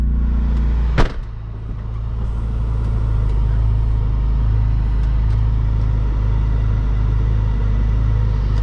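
A BMW E46 M3 engine cranks with a sharp catch, then settles into a steady, loud, deep idle rumble with a constant low hum, heard up close and alone.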